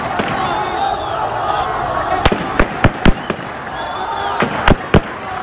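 Live gunfire at a street protest in Aleppo: sharp, loud shots in uneven bursts, some in quick pairs, echoing over a crowd's distant shouting and voices.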